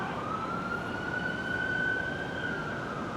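A siren from an emergency vehicle passing outside holds a steady, slightly rising wail over continuous background noise, with no talking.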